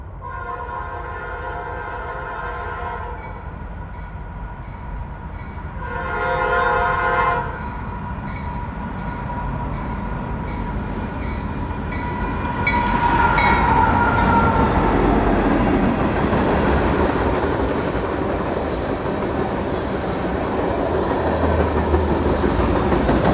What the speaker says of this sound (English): the AC-44 C6M class unit with a bright blue cab and gold main scheme, leading 19G west across Lincoln Avenue